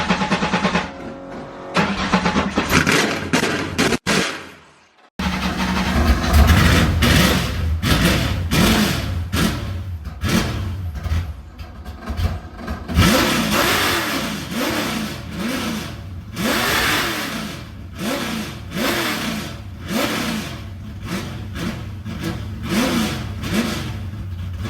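A 1965 Mustang cranks and fires, then its 600hp V8 with a custom exhaust rumbles loudly, revving repeatedly in bursts before settling into a throaty idle.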